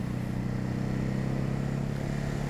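Steady engine drone from a 2024 Ducati Hypermotard 950 RVE motorcycle, a continuous low rumble held at an even level, moderately loud with no speech.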